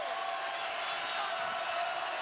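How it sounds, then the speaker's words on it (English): Dense basketball arena crowd noise at a 2012 Gonzaga vs St. Mary's college game, a steady broadband roar of cheering with scattered whoops, fairly distant and sustained throughout. "As if this crowd needed to get a little louder."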